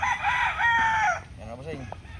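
A six-month-old local gamecock broodstag crows once, a loud close drawn-out call that tails off, followed by a few softer clucks and low chicken sounds nearby.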